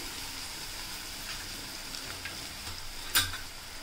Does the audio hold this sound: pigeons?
no